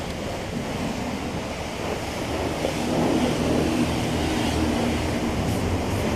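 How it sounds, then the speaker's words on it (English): A steady broadband wash of water hoses rinse cleaner off a motorcycle, a constant close hiss that swells slightly midway and carries on with no voices. "we're gonna come back and rinse this off"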